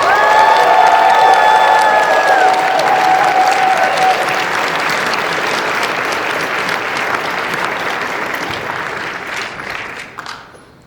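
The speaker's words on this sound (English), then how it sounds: "Please give a warm round of applause to Lamont Price." A large convention-hall crowd at a live comedy event bursts into loud, sustained applause with some cheering and whistles at first, then the clapping slowly fades near the end.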